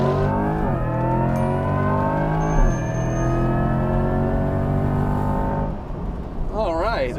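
A 2024 Corvette E-Ray AWD hybrid launches from launch control at full throttle, its engine note rising steadily through two upshifts before easing off, loud and close, with a person talking briefly at the end.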